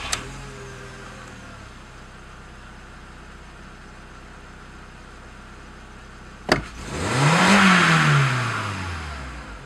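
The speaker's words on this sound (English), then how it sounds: "Start the engine and perform a snap throttle." A car engine is fitted with an HFM5 air mass meter for testing. After a quiet stretch it cranks and catches, then a sharp snap of throttle sends the revs swooping up loud and close before falling back toward idle.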